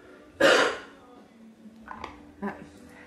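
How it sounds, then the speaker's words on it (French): A man's single sharp, loud cough bursts out near the start, followed by a couple of fainter throaty sounds and quiet murmurs. "si vous entendez tousser, c'est normal"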